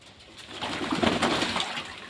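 Pigeons coo softly in a low, murmuring roll at moderate distance, a faint burbling chorus rising and falling over a quiet background during a winter bathing session.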